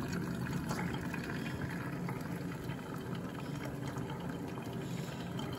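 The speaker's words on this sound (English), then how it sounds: "the water's coming out, comes into the pot here through this filter basket" Water streams steadily through the filter basket into the pot of a Bunn VPR coffee maker, a continuous even pouring and trickling sound with a faint mechanical hum beneath it.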